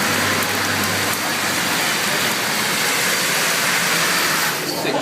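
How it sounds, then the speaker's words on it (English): Steady rain pours down outdoors, a loud, even hiss of drops on surfaces, with a faint low engine hum under it. "The rain continues to fall here."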